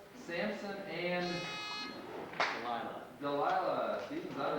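Speech fills a 1999 scholastic quiz bowl match, with a harsh electronic buzz cutting in briefly near the middle as a contestant buzzes in.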